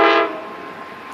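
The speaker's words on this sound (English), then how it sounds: "as soon as I was going to record, my dudes, a train has to come by." A passing train blares its horn loudly and nearby for a moment, then the sound drops to a steady, fainter rumble of the train rolling past.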